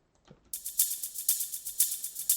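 A crisp shaker loop with hi-hats ticks in a steady repeating rhythm, bright and close, after a brief faint start.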